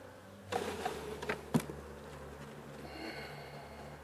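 Honeybees buzz steadily around an opened hive, a faint, continuous hum underneath a few soft handling knocks and rustles.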